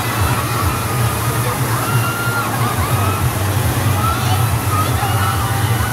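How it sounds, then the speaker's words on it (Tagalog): A dense crowd at the night Tuna Festival in General Santos, a steady loud roar of many voices and shouts blending into continuous hubbub, close and unbroken throughout. "Hiyawan!"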